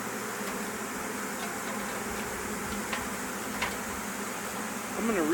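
A honey bee swarm being caught in late June fans and buzzes in a dense, constant drone that stays close and steady throughout, with a few faint clicks and a louder swell at the end.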